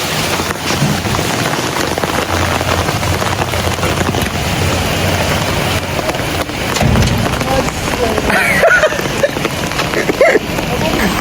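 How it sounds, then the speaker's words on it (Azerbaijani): A heavy downpour roars steadily and densely on nearby surfaces, and people talk over the constant rush of the rain. "Leysan getdi."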